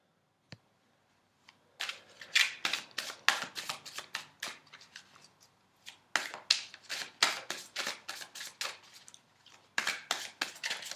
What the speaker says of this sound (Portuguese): vou colocar de novo a carta aqui no meio